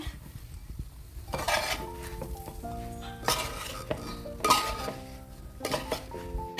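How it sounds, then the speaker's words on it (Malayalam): Gooseberry pickle, North Indian style, stirred in a metal pot: spoon scrapes and clinks come in bursts against a steady tonal background, moderately close. "ഇത് നല്ലതുപോലെ അങ്ങോട്ട് ഇളക്കണേ"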